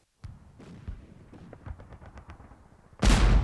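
Battle sounds at Gallipoli, with scattered gunshots and thuds of artillery fire spread across a distant battlefield, ending in a sudden loud close blast of roaring noise.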